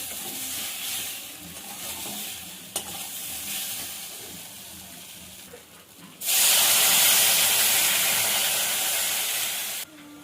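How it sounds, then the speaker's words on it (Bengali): Water poured into a pan of spice paste being fried for prawn curry, bursting into a loud, close hiss and steam after a stretch of stirring and sizzling, then dying away, with no talk. "এরকম মশলাটা কষানো হয়ে গেছে, এবার জল দিয়ে দেবো।"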